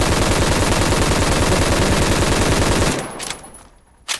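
A rapid, sustained burst of automatic gunfire from a gun in the Roblox video game Phantom Forces, loud and continuous for about three seconds, then stopping, with a couple of short clicks and a thud after.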